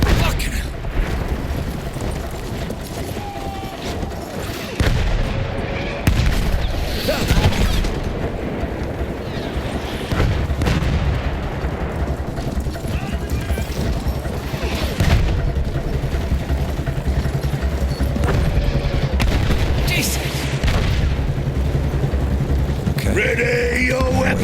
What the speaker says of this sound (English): Artillery already?